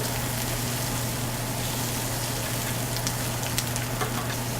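Onions browning in peanut oil give off a steady, even sizzle and crackle with a low hum beneath, continuous for the whole stretch, with a few sharper pops near the end.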